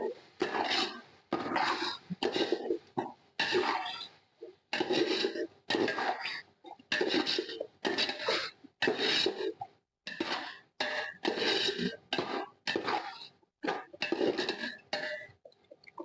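A spoon scrapes and stirs about 200 grams of tomatoes in a pan while they cook down for a paneer chicken dum biryani, in short rhythmic rasping bursts with brief pauses, close and fairly loud with no talk.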